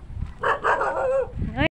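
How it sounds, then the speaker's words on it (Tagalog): A dog barks and yelps several times in quick succession, fairly close, with a brief cut of silence near the end. "tatahol na naman yung aso"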